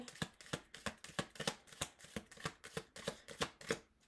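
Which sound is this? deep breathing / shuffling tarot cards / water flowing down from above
shuffling tarot cards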